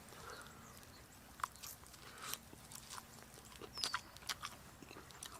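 Quiet, close chewing of cooked squirrel meat with chunks of garlic, soft irregular bites and mouth sounds over a few seconds, with no talking.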